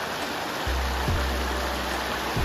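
Flooded river water rushes beneath a house, a steady, dense roar of noise with occasional low bumps, loud and unbroken throughout.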